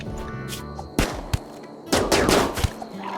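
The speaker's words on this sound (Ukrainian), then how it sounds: "Стрілянину починайте" Rapid bursts of gunfire crackle and thump in the video game RimWorld, several sharp shots in quick succession over a busy background.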